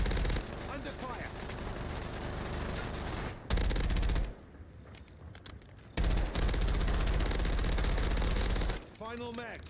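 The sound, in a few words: gunfire from video game Black Ops Royale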